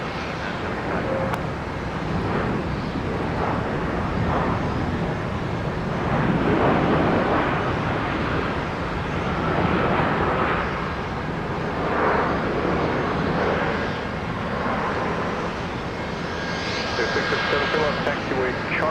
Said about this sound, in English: Here's Iceland Air from Reykjavik with a 737 MAX.